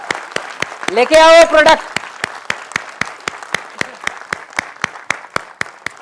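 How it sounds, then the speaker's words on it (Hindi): Sharp, evenly timed rhythmic clapping from an audience at a company felicitation event, keeping a steady beat throughout while a man briefly calls out over it near the start. "और जोरदार ताली के साथ"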